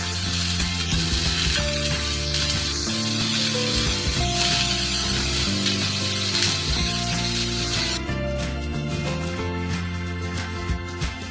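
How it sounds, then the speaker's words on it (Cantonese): Pork belly pan-frying for braised pork makes a continuous sizzle and spatter that runs the whole time under background music. "將啲五花腩反轉佢，煎佢另外一面。"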